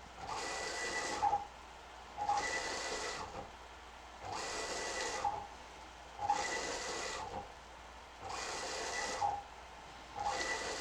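A 3D printer with stepper drivers prints a brim, its motors giving a rhythmic series of whining, buzzing movement bursts about every two seconds with brief pauses between, faint and close with no talk.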